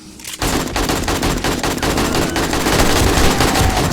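Rapid automatic gunfire in the zombie survival game 7 Days to Die, a loud continuous burst of shots starting abruptly and hammering on without pause.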